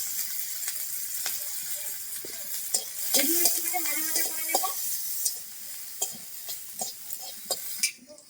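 Cumin, chopped ginger and chilli frying in hot mustard oil in a wok, a steady close sizzle with stirring scrapes and light clinks of a utensil against the pan.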